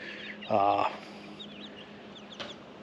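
A small black chicken on a farm gives one short, loud clucking burst, followed by faint high chirps in the background.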